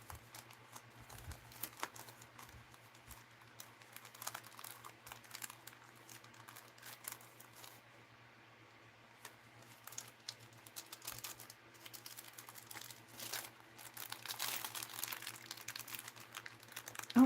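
Plastic bags that are hard to open crinkle and rustle in quiet, scattered bursts while boxes are sorted, with soft irregular crackles and no speech.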